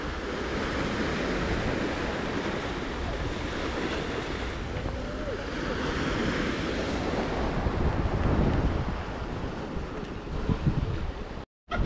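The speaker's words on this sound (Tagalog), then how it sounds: "Parang lumalakas ng alon." Red Sea waves surge and wash continuously, loud and close, with strong wind buffeting the microphone throughout.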